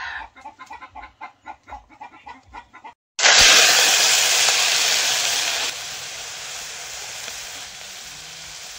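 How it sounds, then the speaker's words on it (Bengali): Sitapati fish seasoned with salt and turmeric drops into hot oil with a sudden loud hiss, then sizzles steadily and eases to a quieter frying crackle, after rhythmic rooster-like clucking in the background. "এবার লবণ হলুদ দিয়ে মাছটা ভেজে নেব।"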